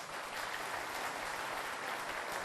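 An audience claps together at a religious storytelling talk, a steady wash of applause held at moderate distance for a couple of seconds, no speech over it.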